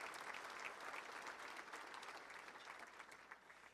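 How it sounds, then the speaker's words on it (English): Steady applause from a seated crowd at a touchdown club luncheon honoring proud parents, a dense unbroken patter of clapping that holds loud for several seconds before easing slightly at the end. "Let's give them a round of applause"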